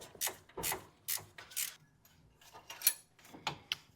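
A ratchet works loose a bolt on the AC compressor bracket of a 2003-2008 Lexus RX330, giving a close, quiet series of rhythmic clicking bursts, about four evenly spaced swings followed by a few softer ticks.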